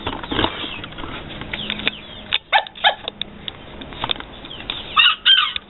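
Japanese Phoenix chickens, a long-tailed breed of the Onagadori family, with a rooster crowing several times in short bursts and a few clucks over a quiet outdoor background, close and clear.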